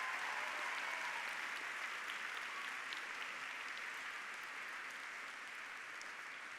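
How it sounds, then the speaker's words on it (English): Audience applause greets the BT volunteers at a 2018 opening event, a dense, even patter of many hands clapping that holds steady throughout at modest level, with no voices over it. "So big round of applause for our BT volunteers."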